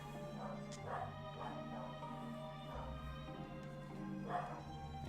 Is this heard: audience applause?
no